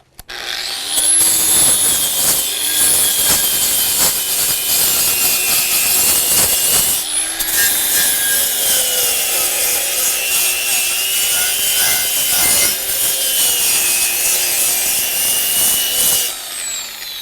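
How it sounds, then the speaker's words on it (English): A wire brush scrubs rust and cement off a tool head with a harsh, continuous abrasive rasp, loud and close, running steadily for about seventeen seconds with only a momentary break. "Definitely want to wear safety glasses with a wire brush."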